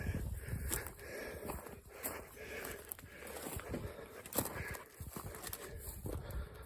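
Faint horse hooves clip-clopping at an irregular walking pace on hard ground through a winter gorge, with birds and wind in the background.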